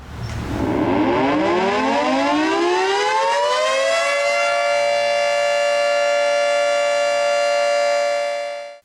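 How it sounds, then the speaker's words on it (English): A loud Federal Signal 3T22 civil defense siren winds up from a low growl to a steady, piercing howl, holds, then cuts off abruptly. "there are a whole bunch of different types of air raid sirens out there"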